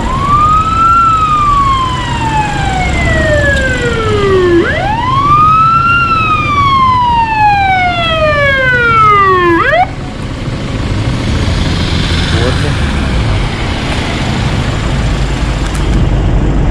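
A loud wailing ambulance siren at a road accident sweeps up and down in long repeated cycles, then cuts off, leaving traffic rumble in the background.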